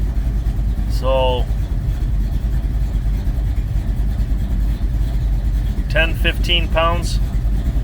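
A 1970 Plymouth Duster's engine idles low and steady at close range, with someone talking briefly over it and two short, rising revving sounds.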